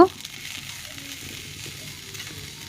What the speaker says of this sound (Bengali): এই যে ধনেপাতাটা দিয়ে আমি একটু নেড়েচেড়ে নেব